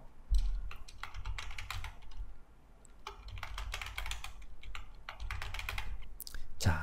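A password is typed on a computer keyboard during a website sign-up, with close, quick bursts of key taps separated by short pauses.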